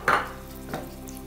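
Ginger and garlic are sautéed in a pan with a brief scrape of a spoon and a second softer stroke over a low steady sizzle, close and without talk.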